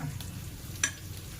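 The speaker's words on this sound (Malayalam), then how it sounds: "ഇപ്പം അങ്ങനെ കണ്ണൂരിലെ ചട്ടിയിൽ സാമ്പാർ ഇങ്ങനെ വെന്തുകൊണ്ടിരിക്കുകയാണ്." Sambar simmering in a Kannur clay pot, with a soft bubbling sizzle and faint stirring and one brief sharp clink partway through, quiet throughout and without talk.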